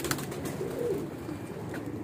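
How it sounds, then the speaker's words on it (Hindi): A pigeon hen, one of a pair of Weshi, Kansani or Sialkoti fancy pigeons, gives soft, low cooing that rolls on steadily for a couple of seconds, quiet and close with no voices. "कबूतरी है"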